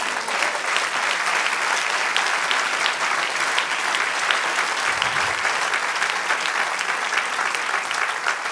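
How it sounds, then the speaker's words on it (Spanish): A church congregation applauds the Lord during a prophetic sermon, a steady, dense wash of clapping that holds at full strength for the whole stretch with no voices breaking through. "Dale un aplauso al Señor."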